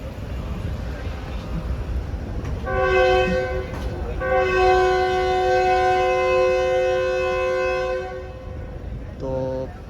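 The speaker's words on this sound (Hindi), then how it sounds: "तो पहला इनिशियल डिपार्चर हॉर्न हो चुका है" A Shalimar Express locomotive at Drigh Road station sounds its first departure horn: a loud, sustained multi-tone blast with a brief break, then a long steady note over rumbling station ambience.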